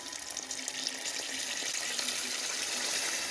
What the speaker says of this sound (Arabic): هبتدي بقى احط عيار الميه بتاعي